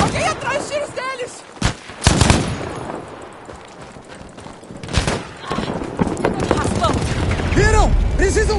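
Bursts of rapid gunfire and sharp single shots crack out in Battlefield V multiplayer Conquest on PS4 Pro, with shouting voices and game effects mixed in.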